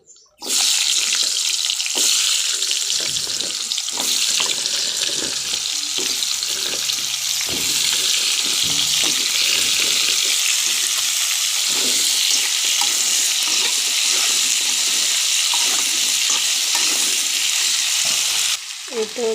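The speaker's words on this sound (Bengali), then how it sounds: "কুমড়োগুলো হালকা করে ভেজে নেব।" Sweet pumpkin pieces fry in a pan, giving a loud, constant hissing sizzle that starts abruptly and holds steady, with occasional soft clatter underneath and no talking.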